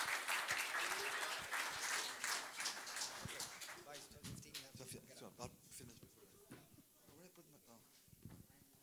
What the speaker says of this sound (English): let's give him a wonderful hand of applause